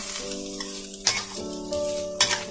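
Egg and lotus stems stir-fried in a pan for a mild Thai stir-fry, with a steady close sizzle and two sharp scrapes of a spatula against the pan.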